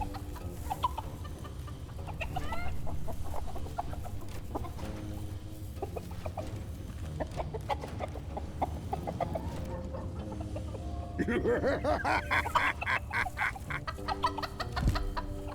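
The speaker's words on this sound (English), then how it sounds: "All of you, just eat the chickens!" Chickens in the Minecraft Dungeons video game cluck in short, scattered bursts inside a dense, steady wash of game music and effects. No voices.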